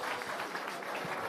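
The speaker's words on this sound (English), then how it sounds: "Let's give a round of applause for all 3 of the startups that we heard from" An evening startup event audience claps for three presenting startups, a dense burst of applause at moderate distance with no voices.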